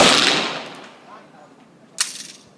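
A single sharp pistol gunshot crack rings out near the end of a target shooting session, preceded by fading broadband noise from an earlier blast.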